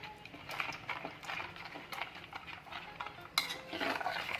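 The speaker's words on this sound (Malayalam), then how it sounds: "എന്നിട്ട് നന്നായിട്ട് തന്നെ മിക്സാക്കി എടുക്കാം" Ground rice batter being mixed with salt in a bowl for Kerala thenga pathal, with soft repeated scraping and clinking of a spoon against the vessel, close and fairly quiet, a sharper knock partway through.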